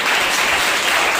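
Church congregation clapping at a Sunday morning service, a steady dense wash of applause filling the full short stretch with no voices over it.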